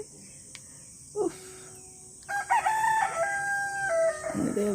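Roosters kept by a hotel owner crow at a hotel, a couple of clear, drawn-out calls rising over steady insect buzz, with faint clucking between crows.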